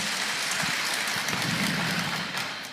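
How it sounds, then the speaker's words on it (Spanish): A church congregation claps together in sustained, dense applause that fills the room, loud and steady before tapering off slightly at the end. "Démosle un fuerte aplauso al Señor."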